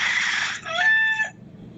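Chicken at a birthday gathering giving a short, loud crow-like call with a brief clucking tail, close and clear over faint background noise.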